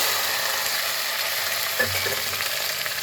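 Cluster beans tipped into hot mustard oil with cumin, a bright steady sizzle and frying hiss with a brief clatter as the beans land midway.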